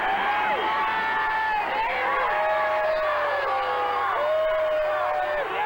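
A stadium crowd of Edmonton fans at a CFL Labor Day football game in Calgary cheers a touchdown with loud, sustained whoops and shouts under a steady roar, while commentators talk over it.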